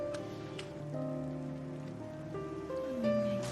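Rain in a horror film scene, a steady wash of falling drops beneath sustained, droning ominous music tones that shift in pitch, with faint sharp accents and no talk.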